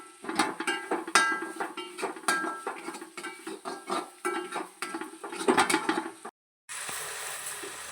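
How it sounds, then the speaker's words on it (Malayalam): A spoon stirs tomato masala in a cooking pot, giving close, irregular clinks and scrapes against the metal with a soft frying hiss beneath, broken by a brief silence near the end. "മസാല ഇളക്കിക്കൊണ്ടിരിക്കുകയാണ് നമ്മളിങ്ങനെ"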